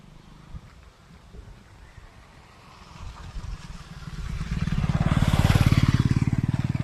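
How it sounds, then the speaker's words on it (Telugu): A farmer's motorbike approaches and passes close by, its engine rising from faint to a loud, steady pulsing drone over the last few seconds on a rural road near Nellore. "ఇదిగో రైతన్న పోతా ఉన్నాడు బైక్ మీద"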